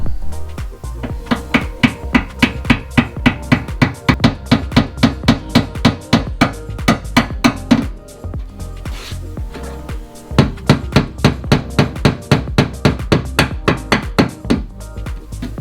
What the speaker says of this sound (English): you just have to tap the pin with a hammer very slightly until the pin goes all the way inside